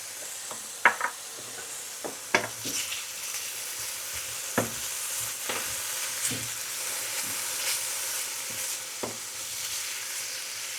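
Saffron milk cap mushrooms with parsley fry in olive oil, giving a constant close hiss and sizzle broken by several sharp knocks and scrapes of a utensil against the pan.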